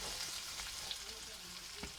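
Ingredients frying in oil, a soft steady sizzle with faint crackles that runs quietly throughout with no talk.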